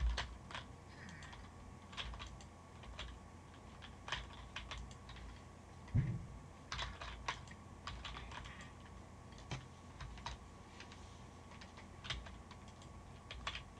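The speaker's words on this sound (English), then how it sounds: "Are you typing?" Soft, quick keyboard typing runs steadily underneath a Minecraft multiplayer survival game, with irregular clusters of clicks mixed with game ambience and faint background noise.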